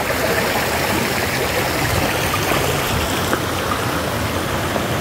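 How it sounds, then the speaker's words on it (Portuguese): An outdoor waterfall in Tupi-Guarani Indigenous lands roars as a loud, steady wash of rushing water, close and constant throughout. "Toda a cachoeira."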